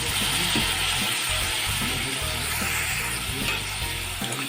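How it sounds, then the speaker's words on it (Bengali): Water poured into a hot pan of frying rohu fish curry with amra and tomatoes raises a loud, continuous sizzle and crackle that stays steady throughout, close by, with no talking. "আমি এখন সামান্য জল দিলাম"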